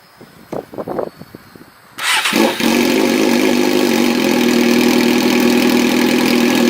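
Suzuki GSX-R sport motorcycle engine fires up after a few faint clicks and settles into a loud, steady, close idle, already warm from riding.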